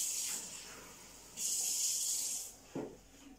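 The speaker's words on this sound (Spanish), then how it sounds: "ahora le vamos a echar un poquito de agua," A small splash of water poured into a pan while cooking broad beans with ham and garlic shoots, heard as a brief faint hissing pour with a short gush, fairly close and quiet.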